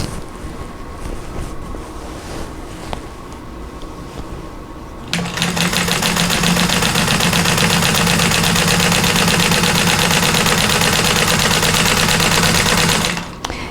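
A 1947 Singer 15-90 vintage sewing machine stitching a quilt runs with a loud, steady mechanical whir and rapid chatter for several seconds after a quieter stretch, then stops abruptly.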